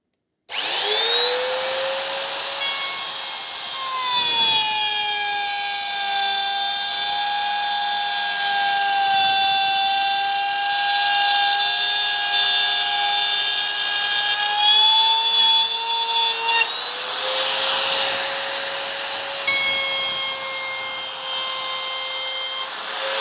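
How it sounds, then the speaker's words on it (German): A wood router with a 6 mm bit milling a groove in wood, a loud, steady high whine with strong tonal harmonics that shifts pitch a few times as it cuts, continuous for over twenty seconds. "So, das war jetzt die erste Fräsung."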